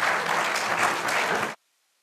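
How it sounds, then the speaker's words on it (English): Audience at a meeting bursts into steady, fairly loud applause from many hands, which cuts off abruptly into silence. "Let's give them both a round of applause"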